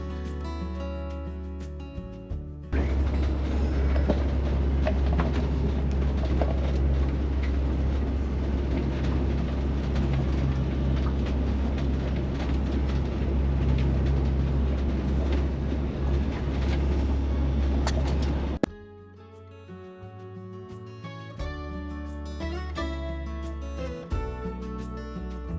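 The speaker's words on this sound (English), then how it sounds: "you can hear the sound of this bridge, and I was only going like 15 or 17 miles an hour" A vehicle rolls slowly at about 15 mph over a bridge on the road to Alaska, a loud steady low rumble and rattle that lasts around fifteen seconds and then ends abruptly.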